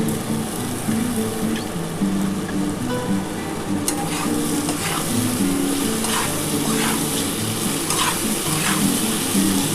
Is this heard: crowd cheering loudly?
no